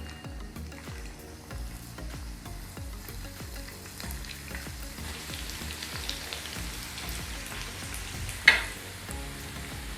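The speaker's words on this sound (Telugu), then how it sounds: "ఇప్పుడు ఆయిల్ వేడైందండి. ఇందులో మనము పిండితో పకోడీలాగా వేసుకుంటాము." Spoonfuls of leftover-rice pakodi batter deep-frying in hot oil, a steady close crackling sizzle throughout with a sharp louder pop near the end; no talking.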